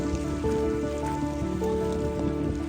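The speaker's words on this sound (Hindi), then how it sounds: "बर्फ़बारी रुक गई है, बिल्कुल हल्की हल्की बूंदाबांदी है" Light drizzle of rain pattering steadily on a mountain trail after snowfall, a soft continuous hiss with scattered drops, fairly close and alone.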